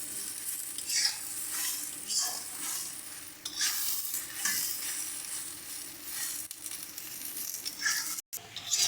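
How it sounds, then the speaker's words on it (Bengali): Taro mixed with pickle stirred in a pan, a steady close sizzle broken by repeated scraping strokes and occasional light metallic clinks of the utensil against the pan, ending in a brief drop to silence. "এবার ভালো করে আচারটাকে সমস্ত কচুগুলোর সাথে মিশিয়ে নিচ্ছি।"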